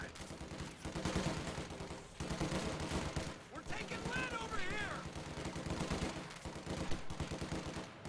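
Rifle squad gunfire in a real-time strategy video game crackles in rapid bursts and volleys at mid distance, mixed with other battle noise, while a caster talks over it throughout.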